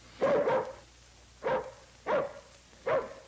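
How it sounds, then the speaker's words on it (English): Dogs bark in four separate bursts, the first a double bark, then single barks at roughly even intervals, clear and fairly close against a quiet background with no talking. "Not you, Bullet, just the other dogs"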